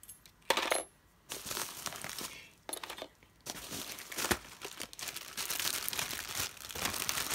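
Antique metal keys handled and jingled among vintage craft and junk journal supplies, giving bursts of clinking and rattling with a few brief pauses, close and fairly loud, with no talking.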